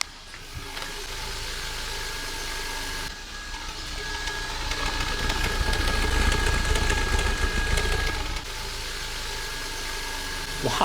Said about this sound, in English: Listen to the exhaust first.